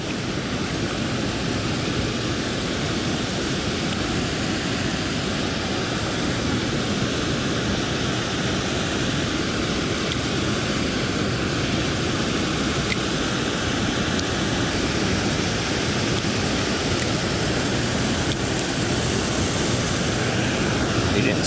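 Waterfalls on the Caney Fork River below Center Hill Dam, a constant loud broadband roar of rushing water filling the whole stretch with no breaks.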